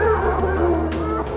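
Hunting dogs abandoned in a forest bark and howl together in a loud, overlapping chorus of yelps and wails, dense and close.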